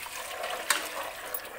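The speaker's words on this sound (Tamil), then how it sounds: "1 கிளாஸ் அரிசிக்கு 1/2 கிளாஸ் தண்ணின்னு ஊற்றிக்கலாம்." Water pours steadily into a cooking pot with oil for egg biryani, a continuous close splashing rush with a small knock partway through.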